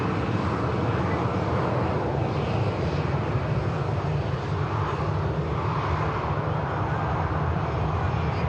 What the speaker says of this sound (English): And just pushing back is an aircraft and an airline we haven't seen particularly on here for a good while